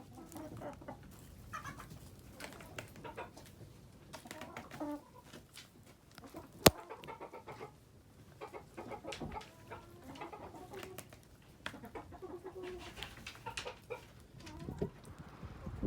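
Chickens cluck and murmur in a steady, busy stream with occasional sharper squawks, close by and without any talking.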